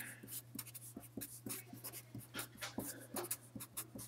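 Someone writes out a math equation by hand, giving a quiet, close run of rapid scratchy strokes and taps in a busy rhythm under a low steady hum.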